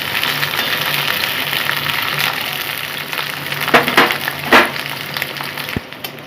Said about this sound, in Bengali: পেঁয়াজ আর এই যে ক্যাপসিকাম নিয়েছি আমি শুধু কালার আসবে এইভাবে আমি একটু ভাজবো